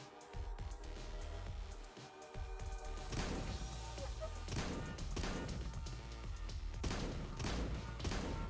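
Buckshot gunfire in the video game XPiratez, several heavy booming shots and crashes spaced a second or so apart, loud and close, with no speech.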